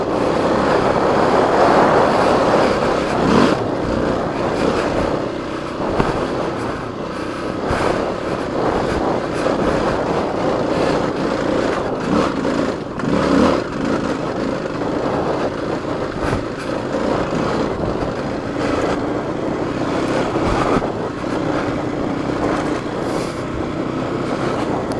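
Motorcycle ridden with the throttle held open over a rough trail, a continuous loud engine roar that surges and rumbles with bumps, mixed with wind noise throughout.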